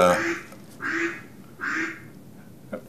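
Ducks quack three times in a slow, evenly spaced series, clear and nearby, with a faint click at the end.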